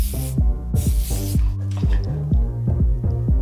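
Two short hissing bursts of hair shine spray near the start, heard over a steady plucked melody.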